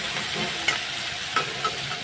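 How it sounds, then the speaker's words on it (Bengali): Fish frying lightly in hot oil in a Bengali home kitchen, a steady close sizzle with a few brief clicks and pops, no talking. "মাছটা এখন ভেজে নিই হালকা করে ভেজে নেব"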